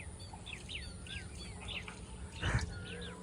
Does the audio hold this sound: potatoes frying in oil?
no